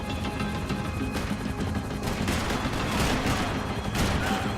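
Dense, continuous gunfire from a laser-sighted gun in Max Payne 3, with rapid overlapping shots and crashes forming a loud, sustained barrage.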